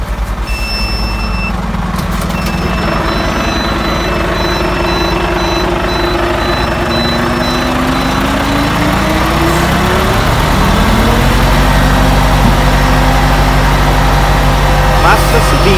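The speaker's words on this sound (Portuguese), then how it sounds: "Báscula subindo." A truck's tipper dump body rises with the engine running loud and steady, hydraulic pitch climbing gradually while intermittent warning beeps sound and someone talks throughout.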